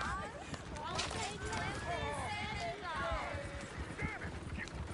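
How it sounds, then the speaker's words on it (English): Horses gallop through the open world of Red Dead Redemption 2, their clip-clopping hooves pounding steadily throughout, with someone talking excitedly and other voices murmuring over the hoofbeats. "Oh, shit, the horses! Damn horses!"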